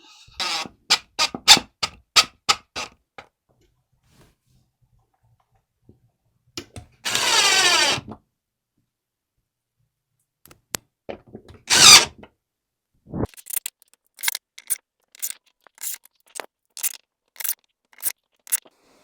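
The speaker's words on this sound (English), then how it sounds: "I'm actually going to use my drill, so this is quicker" Bursts of a power drill driving screws while assembling an entertainment center, whirring in short repeated pulses, with a longer sustained run midway, close and loud, separated by quiet gaps.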